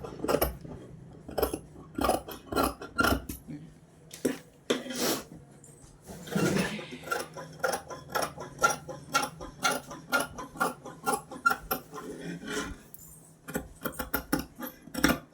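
Scissors cutting blouse fabric for a three-year-old's blouse, a close run of crisp snipping clicks in uneven bursts with short pauses between, quiet and mostly alone.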